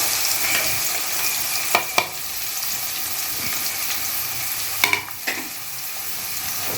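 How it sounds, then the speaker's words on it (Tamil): Finely chopped onions with cardamom, cloves and cinnamon frying in oil for mango chicken, giving a loud continuous sizzle close by, broken by a few sharp spatula scrapes and stirs. "வெங்காயம் நல்லா கோல்டன் ஃப்ரை ஆகிற வரைக்கும் வதக்கி விட்டுட்டே இருங்க"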